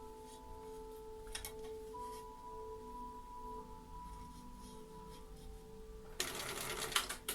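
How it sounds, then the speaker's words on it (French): A sewing machine topstitches along an assembly seam with a steady mechanical whir and hum, quiet and close, ending in a brief louder burst of rapid stitching. "le long de ma couture de montage en faisant une surpiqûre tout le long"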